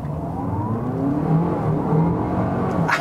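A WEY Coffee 01 plug-in hybrid SUV with a 40 kWh battery pulls away from a standstill in sports mode, heard from inside as a steady engine drone and a rising whine that climbs in pitch throughout.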